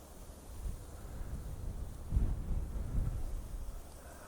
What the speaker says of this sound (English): Wind's picking up here